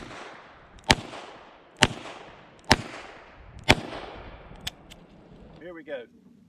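Five loud, sharp gunshots from a Taurus Public Defender Poly revolver firing .45 Colt in double action, evenly spaced about a second apart with decaying ringing tails, followed by a short rustle.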